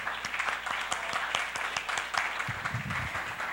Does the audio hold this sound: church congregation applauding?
yes